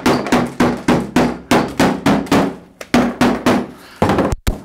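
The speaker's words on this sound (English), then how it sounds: "put a paper towel over it and take a rubber mallet, not a metal hammer, because a metal hammer will mess up the can" A rubber mallet taps a paint can lid through a paper towel in about a dozen firm, evenly spaced dull thumps, close and loud, with no talk.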